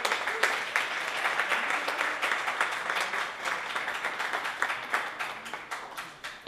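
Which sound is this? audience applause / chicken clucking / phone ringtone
audience applause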